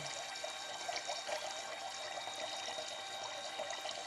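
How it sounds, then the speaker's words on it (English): Water pumped and splashing into a small PLC demonstration tank, a faint steady trickle and pour with little bubbling bursts, heard alone at low level. "And the pumper will automatically stop pumping the water again."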